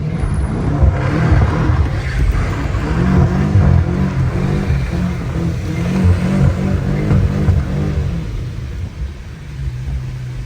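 A BMW M5 Competition drifting in snow, its engine revving with a loud, steady rumble and rising and falling throttle throughout, close and continuous.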